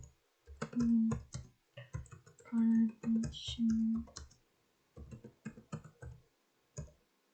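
Typing on a computer keyboard during a PUBG gaming session: clusters of quick close clicks come in bursts with pauses between them, and a voice hums short tones between the keystrokes.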